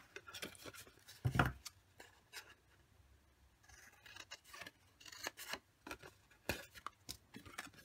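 Scissors snip through a paper milk-carton craft template in a series of close, irregular cuts, one sharp loud snip followed by quieter crisp clips and rustles, with no talking.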